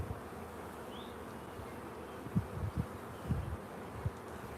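Honeybees buzzing during a beehive inspection in spring, with a steady low hum and a few louder buzzing bursts as bees fly close, heard alone without talk.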